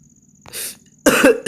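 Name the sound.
cough while playing Only Up video game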